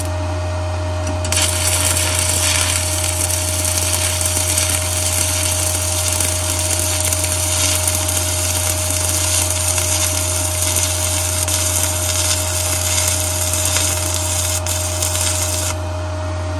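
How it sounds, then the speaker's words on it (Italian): Stick welding at 75 A with a TOPSHAK ZX7-250 inverter welder, giving a continuous crackling, hissing arc that runs steadily for about fifteen seconds over a constant low electrical hum, close by, with no talking. "Ok, dai, riesce a saldare."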